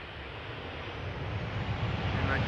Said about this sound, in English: Another Transavia 737.